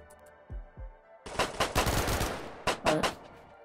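Rapid bursts of gunfire from the video game RimWorld crackle loudly, a few dull thumps first, then sustained automatic shots and two sharp final blasts.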